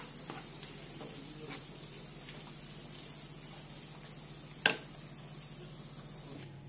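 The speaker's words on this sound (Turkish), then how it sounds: "Karıştıracağım şimdi güzelce." Eggplant filling with black pepper sizzles steadily in a frying pan while a spoon stirs it, scraping quietly, with one louder clack of the utensil against the pan.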